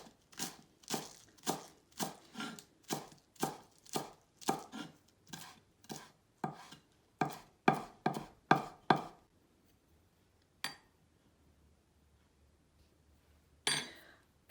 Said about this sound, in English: Cut the garlic chive very thin, like see what I'm cutting it,